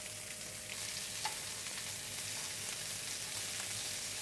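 Scallops searing in a pan with butter, a steady broadband sizzle and crackle that holds evenly throughout at moderate level, with a few small pops and no voices.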